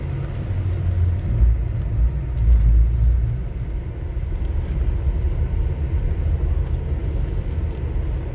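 A car slowly circling through a parking lot near an old paper mill fire scene, a low steady engine rumble and tyre roll heard from inside, swelling briefly then settling, with no talking.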